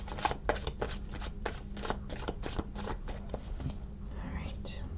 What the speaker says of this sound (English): We're going to pull a Faeries Oracle card now.